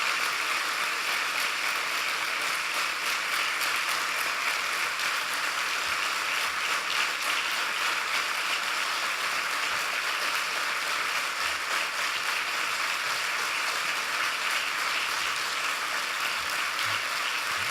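Sustained applause from an audience at a political party's rentrée speech in Belgium, a dense steady wash of clapping that holds evenly for the whole stretch with no voices on top.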